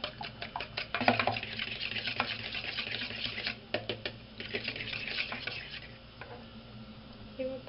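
Batter of egg and wheat flour being mixed for breading chicken, a continuous wet stirring and slapping close up, with small clinks against the bowl throughout.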